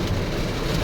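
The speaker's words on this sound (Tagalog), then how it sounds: "Sobrang lakas ng ulan, guys." Heavy rain pours down in a dense, continuous roar, loud and close with no pauses, during a summer downpour.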